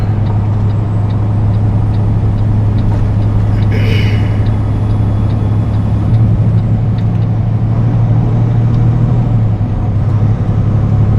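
Car cabin drone in Atlanta rush-hour traffic, a steady low engine and road hum with a brief hiss of a truck's air brake nearby and faint ticking clicks.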